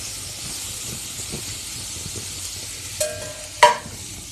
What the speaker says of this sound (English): With that only I am doing the frying of the masalas.